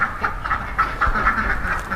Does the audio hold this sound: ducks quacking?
yes